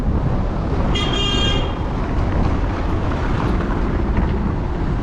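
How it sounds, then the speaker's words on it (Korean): A car horn gives one short toot amid dense street traffic in Cusco, Peru, over a constant loud rumble of engines and road noise. "사람들이 빵빵 하고 있습니다."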